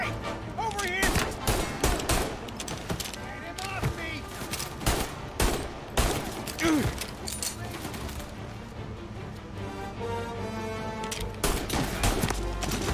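Rapid bursts of gunfire from the video game Mafia Definitive Edition crack out repeatedly in loud clustered volleys, with game music and a voice speaking between shots.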